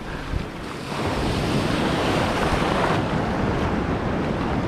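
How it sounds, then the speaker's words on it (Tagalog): Rough ocean waves at a fishing spot, a continuous roar of surf mixed with gusting wind buffeting the microphone, loud and close with no talking. "medyo malalakas din ang alon ah"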